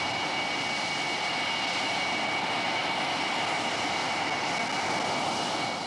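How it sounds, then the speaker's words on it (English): Steady, continuous aircraft engine roar as the plane taxis after landing, with a broad rushing hiss and a faint high whine, holding level throughout with no voices. "Jim Ludford makes perfect touchdown and taxis in after the fastest flight he has ever made"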